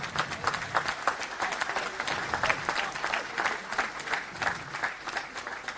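Sustained audience applause at a French left-wing political meeting in Brittany fills the room, dense steady clapping from a crowd of moderate loudness throughout.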